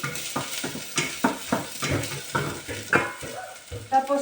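Lamb meat sautéing in a pan with repeated stirring and scraping strikes against the pan over a light sizzle, loud and close, in an irregular rhythm.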